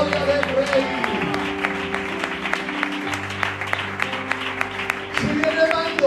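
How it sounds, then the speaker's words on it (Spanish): A church congregation claps along through a keyboard and music backing, with the applause moderately loud and steady for about six seconds. "Fuerte aplauso para la gloria del rey."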